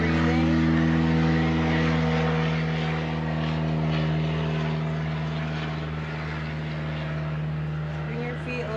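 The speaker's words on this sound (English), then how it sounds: "Hi, airplane." An airplane passes overhead during an outdoor yoga session, a loud, steady droning engine hum with strong tonal harmonics that holds through the whole stretch and fades slightly toward the end, with a voice speaking over it.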